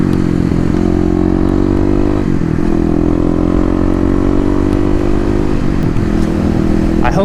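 A Kawasaki KLX250 dirt bike engine roars and revs continuously in first gear during wheelies, loud and close, its pitch rising and dipping as the throttle opens and eases.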